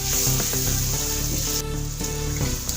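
Yogurt meets frying aloo keema in a hot pan, giving a loud, continuous sizzle with bubbling and a few soft scrapes of stirring, close up and with no speech.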